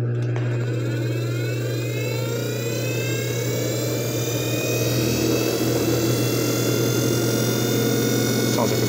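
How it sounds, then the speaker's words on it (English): Old Craftsman power saw running steadily, a loud sustained whine with a rising jet-like pitch and a constant hum underneath, heard close. "You heard the saw"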